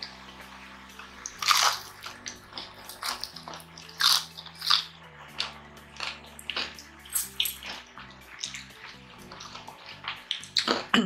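Crunchy bites of lechon kawali and chicharon bulaklak, crisp fried pork and pork intestine, come in a series of sharp close crunches over a steady low background hum, with no talking.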